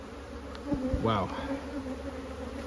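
Honeybees buzzing around freshly built comb filled with nectar during a hive inspection, a close, steady drone with a brief exclamation from a person partway through.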